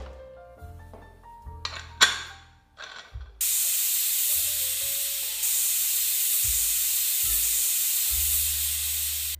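Pressure cooker on the stove cooking mutton biryani releases a loud, steady hissing jet of steam that starts abruptly and holds for several seconds, after a few short clanks and knocks.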